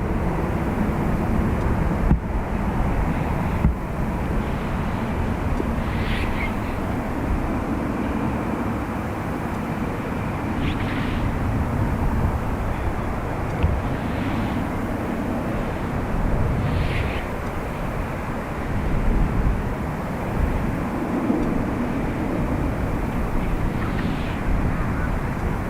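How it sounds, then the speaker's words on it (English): Air Canada airliner departing from a Dublin Airport runway after a medical-emergency diversion, a steady broad engine roar that holds loud and constant throughout, with faint radio chatter underneath. "So this was the Air Canada that diverted in on a medical emergency, departing back out."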